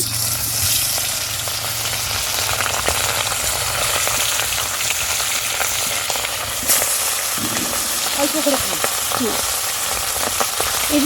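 Khoira fish fries in hot oil, a loud continuous crackling sizzle that stays steady throughout, with faint clatter in the later part.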